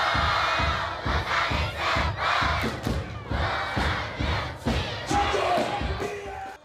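Thousands of citizens in a station square cheer and chant rhythmically to welcome a visiting Expo inspection team, a loud, dense crowd roar with repeated chanting beats and shouts close by.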